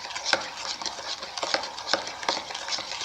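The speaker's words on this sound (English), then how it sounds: "Till the sugar is nicely mixed with the rest of the mixture." Spoon stirring sugar into a watermelon and banana milk mixture in a bowl, a steady run of soft clinks and scrapes at a quick rhythm, close by with no talking.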